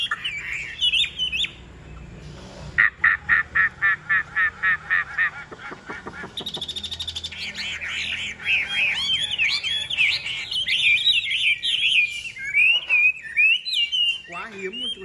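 A Chinese hwamei songbird sings loud, varied phrases close by, with a fast run of evenly repeated notes in the middle and rich warbling trills that continue to the end, with no talk.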